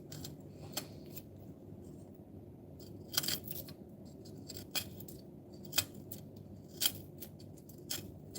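A knife cutting and picking at a solo garlic bulb, a series of sharp quiet clicks and snips spaced a second or so apart over a faint background.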